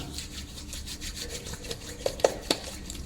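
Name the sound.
rubbing thick pasted hair wax between palms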